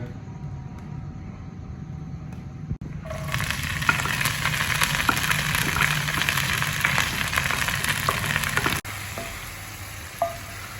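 Greens hit hot oil and sizzle loudly, a steady crackling hiss that continues with occasional stirring clinks, close and unbroken.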